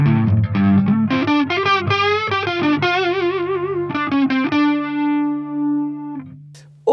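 Electric guitar played through a Neunaber Expanse effects pedal on a chorus setting, a string of lush, shimmering notes and chords with a wavering, detuned quality, ending on a long sustained note that slowly fades, with no talk.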